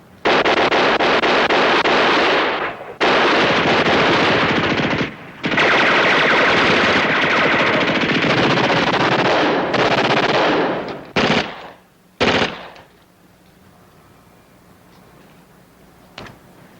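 Bursts of machine gun and rifle fire in a wartime combat scene rattle loudly in long sustained volleys, broken by short pauses, then a few clipped final bursts before fading to near quiet.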